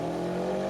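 A VW Beetle drag car with a rear-mounted 2-litre turbo Subaru engine at Santa Pod Raceway, a loud, close, steady engine drone with strong low harmonics in a short burst.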